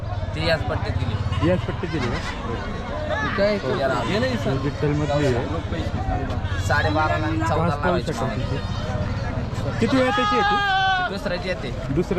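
Goats and sheep bleat repeatedly at the busy Chakan livestock market, with several animals calling over constant nearby chatter and crowd babble.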